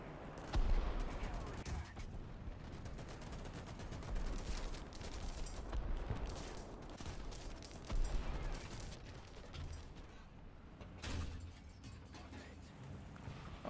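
War Thunder gunfire, dense rolling bursts of shots and booming cannon rounds layered over a constant roaring battle din, with a voice speaking under the fire.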